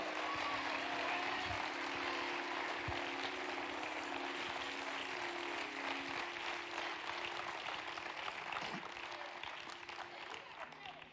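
Congregation applause at a church service, a dense steady wash of clapping that fills the room, with a low hum underneath, fading slightly toward the end.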